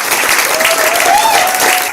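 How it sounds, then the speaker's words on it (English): An audience applauds a jazz ensemble at a Kwanzaa celebration: dense, steady clapping fills the whole stretch at high volume, with a faint voice or tone drifting underneath. "So let's give another round of applause for TheTradition."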